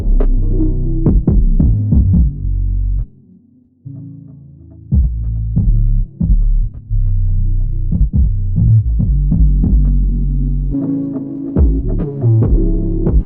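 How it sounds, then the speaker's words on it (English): A music beat runs through a heavy low-pass filter that gives it a muffled, underwater sound: thudding kicks and dull rhythmic hits with the highs cut away. The beat briefly drops out near the middle, then carries on. No voices. "I just have it on this underwater sound all the way to the outro of the record"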